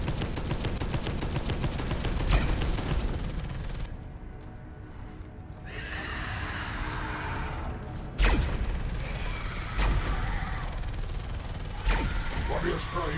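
Video game gunfire crackles in rapid automatic bursts, close and fairly loud, broken by a brief lull and a few sharper single shots, with voices talking over it.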